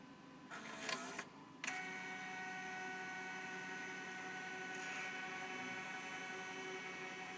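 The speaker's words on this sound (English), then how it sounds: "I do believe it is some sort of thermal printer." A Sagem Photo Easy 160 thermal photo printer runs a steady mechanical whir and hum while printing, preceded by a couple of short clunks, faint and alone.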